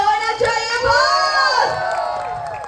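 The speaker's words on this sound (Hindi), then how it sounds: "इस बात पे जोरदार तालियां" Family members cheering and whooping at a 50th wedding anniversary celebration, with shrill raised voices, including children's, rising and falling close by over a crowd's noise.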